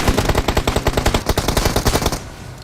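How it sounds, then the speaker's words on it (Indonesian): Rapid automatic gunfire in PUBG Mobile: a loud, close burst of evenly spaced shots runs for about two seconds, then cuts off into quiet. "Tembak woi, tembak terus woi."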